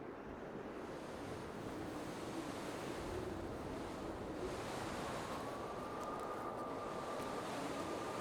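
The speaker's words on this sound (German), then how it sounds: "Also wie der Wind da durch das Loch pfeift" Wind in the Dear Esther game, gusting steadily across an island hillside with a surf-like roar and a faint thin whistling tone emerging in the latter half.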